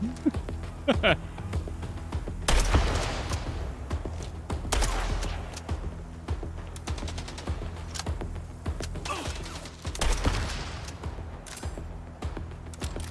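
Gunfire from a weapon in the video game MindsEye, bursts of shots and mechanical clatter repeating across the scene amid game sounds, with a voice talking over parts of it.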